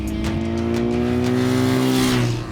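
A BMW car engine revs loudly and close, its tone climbing and holding steady for a couple of seconds before easing off, with no talk over it.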